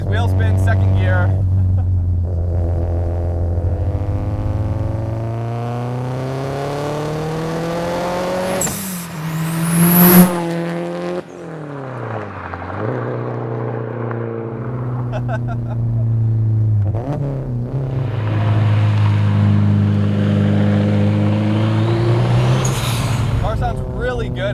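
Heard from inside, a 440 HP Subaru STI accelerates through the gears with engine pitch rising and falling and a sharp whoosh mid-run, all over constant road noise and occasional talking from the occupants.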